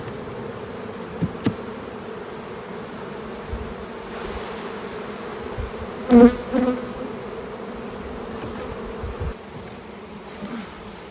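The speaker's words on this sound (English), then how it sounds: "Just pulling out a frame, shaking off most of the bees and putting it in another box." Honey bees buzz in a steady, dense hum throughout a honey harvest as frames are lifted out and shaken, with a few sharp knocks and thumps from the hive boxes near the middle.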